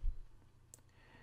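A single soft computer mouse click sounds close and faint against a quiet room background, with nothing else happening.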